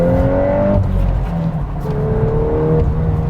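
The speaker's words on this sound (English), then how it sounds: "The exhaust is opened up." A 2022 VW GTI or Golf R with its exhaust opened up drones loudly from inside the cabin, engine pitch rising under acceleration, dipping on a shift, then climbing again, with no talk over it.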